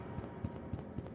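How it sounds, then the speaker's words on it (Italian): Footsteps in the Granny horror video game thud in a slow, steady rhythm, four heavy muffled steps over a dull rumbling background. "Ho sentito dei passi."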